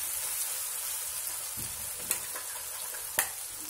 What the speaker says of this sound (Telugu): మసాలా బాగా వేగుతుంది.